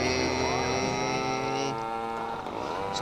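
Supra motorbike engine in the video game GTA Vice City Stories, a steady buzzing drone with strong tonal harmonics that drops in pitch partway through, loud and continuous.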